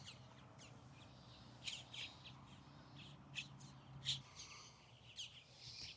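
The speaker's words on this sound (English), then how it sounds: "Birds are going crazy this time of day" Crows caw in short bursts amid other bird calls, faint and somewhat distant over a low steady outdoor background at dusk near historic burial mounds.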